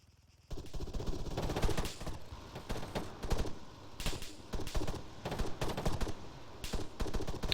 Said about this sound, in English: There was one that was posted up in the air shooting at him.